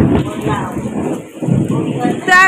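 Rain pours steadily in a village setting, with low rumbling thunder rolling underneath as people talk over it nearby.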